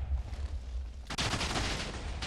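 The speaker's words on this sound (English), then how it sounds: "just waiting for the explosion" A TNT cannon explosion in the Minecraft video game fires at about one second: a sudden loud burst, then a dense roar that keeps going for the rest of the moment.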